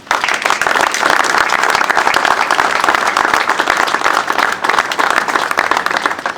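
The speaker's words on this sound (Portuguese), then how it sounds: "eu pedia-vos uma sentida salva de palmas na memória dessas mesmas pessoas" Sustained audience applause, a dense wash of many hands clapping steadily and loudly throughout, at a gathering in memory of people connected to the Esposende volunteer fire brigade.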